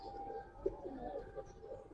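A Giribaz highflyer pigeon gives faint, low cooing notes, a few soft rolling phrases at a distance over a steady hum of background noise, with no voices.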